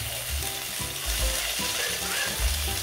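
Chopped onion frying in cooking oil in a pan while tomato sauce noodles are made, a steady close sizzle with low stirring thumps and scraping running underneath.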